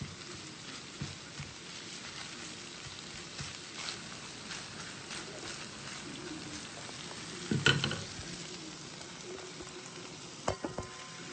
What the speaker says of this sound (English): Yeah, you hear that sizzle?